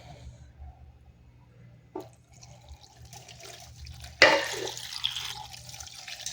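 A cup of water is poured into a cooking pot for a salmon dish on a home stove, a short splash followed by a brief pouring gush over faint background hum.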